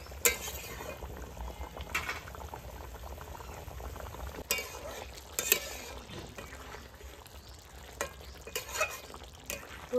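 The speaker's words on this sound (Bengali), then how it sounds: "ঝোল ফুটে উঠেছে। আর একটু হলে আলুগুলো সিদ্ধ হয়ে যাবে।" Duck egg curry gravy with potatoes bubbles steadily in a pot, with a continuous close simmering hiss and a few light clinks of a utensil, no talking.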